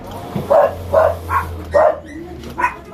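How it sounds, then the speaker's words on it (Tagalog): A dog barks about five times in a steady rhythm, fairly close and clear, with a low hum in the background. "Aso."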